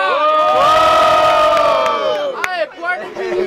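A loud crowd roars, shouts and whoops at a Brazilian student rap battle in Guarulhos, São Paulo, a dense swelling cheer that fades after about two seconds into scattered calls and voices.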